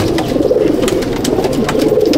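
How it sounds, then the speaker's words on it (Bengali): A loft of pigeons coos in a dense, continuous chorus, with many overlapping throaty calls rolling together loud and close. "দেখুন চোখের পায়রা, খুব দারুণ চোখের পায়রা।"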